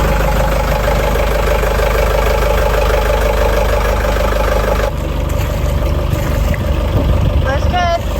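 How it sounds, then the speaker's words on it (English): A boat engine starts up, then idles with a steady low, throbbing drone. The tone shifts partway through, and a voice talks over the running engine. "I'm gonna start that engine up again first, just so we can see the flow of water"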